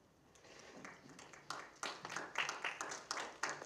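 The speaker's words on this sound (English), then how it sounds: "if we can hold the applause to the end, please" Scattered applause from an audience at a community candidates forum, starting faintly with a few isolated claps and building into a rhythmic burst of claps from several people, fairly quiet and somewhat distant.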